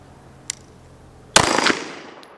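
A pistol fired after being drawn from a holster during a rifle-to-pistol transition drill: a faint click, then a loud close shot followed by a quick second report that decays into a ringing echo, with no talking.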